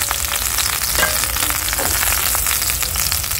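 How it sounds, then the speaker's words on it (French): Onion, tomato and garlic fry in hot oil with a steady, dense sizzle and crackle that holds evenly throughout, close and loud, with no voices. "je mets l'huile à chauffer avec l'oignon, la tomate"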